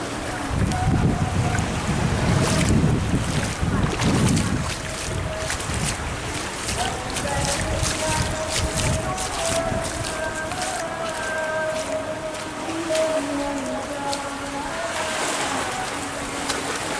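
Tidal flood waves surging through a flooded coastal village at Puger, heard as steady rushing, splashing water with strong wind buffeting the microphone and faint tonal hums; continuous and loud throughout.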